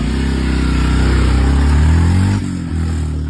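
A motorbike engine runs close by, loud and steady with a deep rumble, briefly dipping and shifting pitch near the end as if easing off the throttle.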